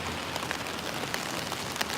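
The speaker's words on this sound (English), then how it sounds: "as we walk in the rain here in Ginza." Steady rain falls on a street in Ginza, Tokyo, a continuous close hiss of drops on pavement with a few brighter splashes, heard alone without talk.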